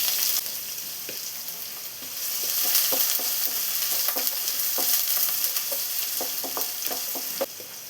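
Chopped onion sautés in coconut oil with a steady close sizzle, a spoon scraping and stirring in quick irregular clicks over the hiss, no voices.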